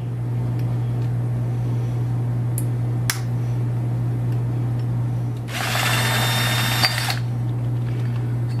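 A power tool whirs in a short, bright burst lasting under two seconds while removing the main spindle mount during a VSS upgrade, set against a steady low hum with a couple of sharp clicks earlier.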